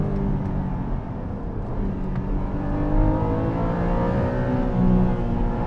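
A 2021 Porsche 718 Cayman GTS 4.0 revs its flat-six engine, a loud sustained drone that swells and climbs in pitch through the gears, heard from close by with no voices.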